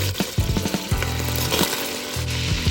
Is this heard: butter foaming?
yes